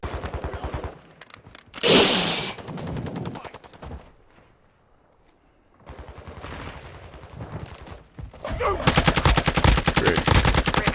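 Shooting in the video game Warzone, with rapid automatic fire, a heavy blast and bursts of shots broken by a quieter lull before sustained loud automatic fire returns.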